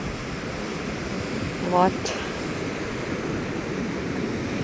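Wind and surf on a Black Sea beach make a constant broad roar close to the microphone, with strong wind buffeting; a voice speaks briefly partway through.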